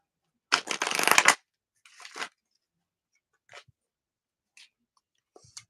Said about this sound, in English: Gonna shuffle my deck some more.